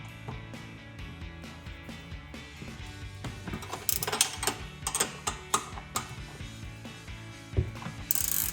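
A 13mm wrench ratcheting on sway bar link bolts of a Jeep Wrangler JL during a JKS Manufacturing link install, rapid clicking pawl ticks in bursts with metallic clinks, close and fairly loud, no voice.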